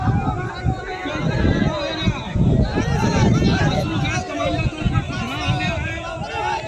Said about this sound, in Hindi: भीड़ फैली हुई है और नारेबाजी कर रही है